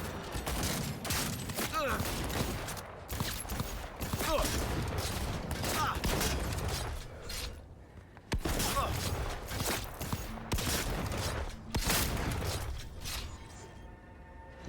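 Gunfire in Cyberpunk 2077 as shots hit bottles, with dense bursts of shots and sharp cracks and a brief lull near the middle, loud and busy, with some talk mixed in.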